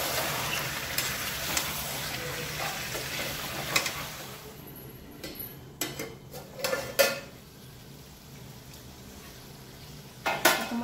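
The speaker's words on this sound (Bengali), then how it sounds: "তোমরা দেখতেই পাচ্ছ চিকেন কিন্তু খুব ভালোভাবে তেল ছেড়ে দিয়েছে, আর কষানো প্রায় হয়ে গেছে।" Marinated chicken with whole onions, whole garlic and potatoes cooking down in spiced oil in a pan, a steady sizzle broken by occasional scraping and clinks of a stirring utensil, no talk.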